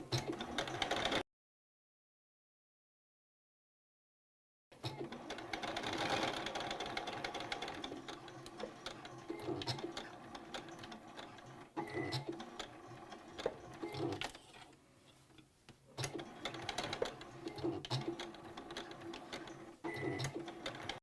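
Sewing machine stitching a fabric face mask with elastic, running in steady rapid mechanical bursts with short pauses, going back and forth over the elastic at a corner; fairly quiet and close, with no talk.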